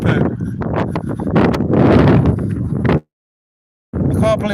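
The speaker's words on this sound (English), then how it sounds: "I can't believe how windy it is." Heavy wind buffeting the microphone at Roman ruins in loud low rumbling gusts for about three seconds, then a sudden silence before the roaring resumes.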